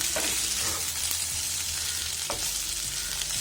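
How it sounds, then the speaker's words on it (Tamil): Potato pieces fry in a pan for a Tamil-style potato pepper fry, a steady hiss of sizzling oil with a few scraping stirs of the spoon, close and moderately quiet, no speech. "இடையில இந்த மாதிரி எடுத்து கிண்டி விட்டுக்கோங்க."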